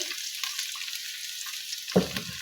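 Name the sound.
cauliflower (gobhi) frying in a pan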